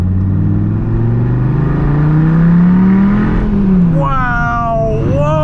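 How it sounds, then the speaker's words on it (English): A Dodge Viper V10 accelerating from inside the car, its engine note climbing steadily for several seconds and then dropping as it shifts, loud and close throughout, with a brief excited voice near the end. "Driving a Viper."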